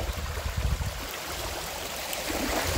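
Hidden, isolated waterfall and stream in the Jibhi hills, a steady nearby rush of flowing water with some low gurgling at the start, no talk.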